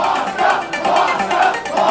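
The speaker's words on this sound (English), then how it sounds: "You can hear the crowd screaming pasta again." A wrestling crowd screams and chants in rhythmic surges, loud and dense, filling the arena with no break.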